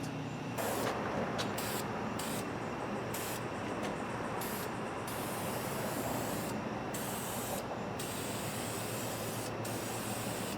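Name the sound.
spray painting headers with high-temperature paint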